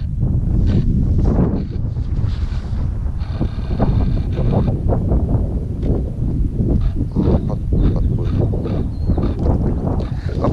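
Gusty wind on an open fishing boat rumbles and buffets the microphone in steady, uneven surges for the whole stretch, loud and close, with no talking.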